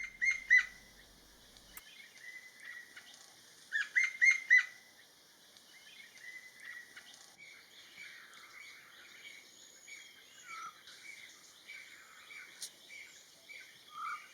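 A black-naped woodpecker calls in woodland with a few bursts of rapid, high chirping notes, fairly faint and distant. A steady insect or cricket hum runs beneath the calls.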